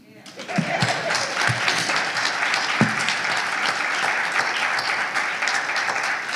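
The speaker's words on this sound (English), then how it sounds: "And can we have a round of applause for UBE?" Audience applause fills a large hall at a church convention, a dense, steady roar of many hands clapping that swells in within the first half-second and holds loud and unbroken to the end, with no talk over it.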